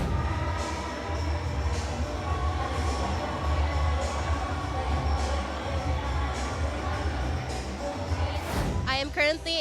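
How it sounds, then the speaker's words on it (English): An audience at an awards event for a 2015 top scholar gives a long, loud round of applause and crowd noise that fills the room, fading as a voice begins speaking at the end. "a big round of applause to our 2015 Top Scholar, Jessica May Navar"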